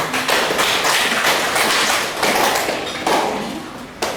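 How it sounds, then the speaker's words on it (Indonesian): A classroom gives a round of applause for a student group: dense, loud clapping from many hands that rises and falls in waves, with a sharp single clap near the end. "Berikan tepuk tangan untuk kelompok 1 supaya mereka semangat."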